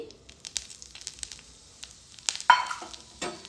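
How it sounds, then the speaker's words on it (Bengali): Semolina fries in hot ghee in a wok, giving a soft crackling sizzle with light scraping and stirring clicks and a brief louder hiss partway through. "ঘি ভালোভাবে গরম হয়ে গেলে দিয়ে দিচ্ছি 2 চামচের মতন সুজি।"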